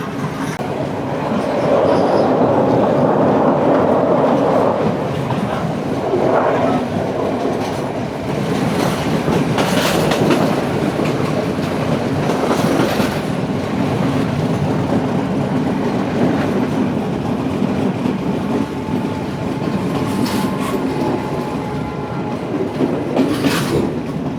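A passenger train runs along the Indian Ocean coast near Colombo, Sri Lanka. Steady clattering wheel noise and rumble fill the whole stretch, with faint squeals and a few brief horn-like tones near the end.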